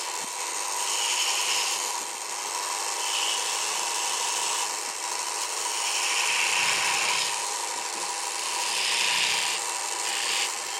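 Hand tool rasping steadily across wood to round over and smooth an edge, a continuous close scraping with slow surges in intensity and no talking.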